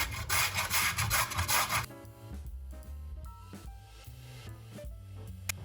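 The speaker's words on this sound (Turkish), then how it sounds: "Rendenin ince tarafıyla rendeliyorum." Small peeled potatoes rubbed against the fine side of a grater, a dense rasping scrape for the first couple of seconds, then quieter uneven scraping strokes, close and with no talk.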